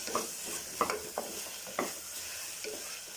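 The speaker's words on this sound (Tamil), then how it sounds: "சேர்த்து அந்த பச்சை ஸ்மெல் போற அளவுக்கு நல்லா வதக்கிக்கலாம்" Ginger garlic paste sautéing in a pan for a chicken gravy, with a steady soft sizzle and a few sharp scrapes of a spoon stirring against the metal, quiet and close.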